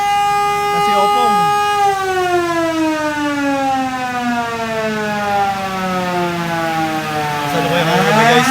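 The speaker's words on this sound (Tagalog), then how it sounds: "babala sirens para dito sa bagyong paparating" Civil defense warning sirens sound in Occidental Mindoro ahead of approaching typhoon Opong: a loud, sustained wail whose tone slides slowly downward, then swells and rises again near the end.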